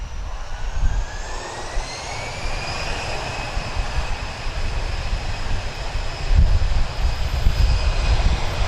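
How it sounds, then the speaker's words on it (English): Airbus A320 jet airliner, first generation, departing Lisbon Airport, heard as a steady broadband roar with a rising whine, growing slightly louder toward the end with no talk. "This is an A320 departing to Madeira, first generation."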